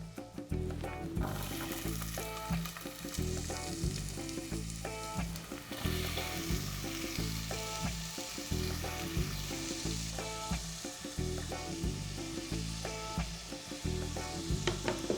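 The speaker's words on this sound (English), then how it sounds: "Cook the garlic, onion and pepper" Peppers, onion and garlic fry in hot oil in a pan for a vegetarian chilli, giving a constant close sizzle under a steady, rhythmic tonal pattern of background music.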